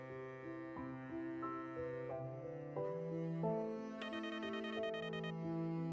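A mobile phone rings with a quiet melodic ringtone that steps through a sequence of clear electronic notes in a steady rhythm, sounding alone with no talk.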